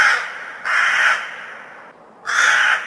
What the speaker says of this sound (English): I'm just gonna go deal with these crows.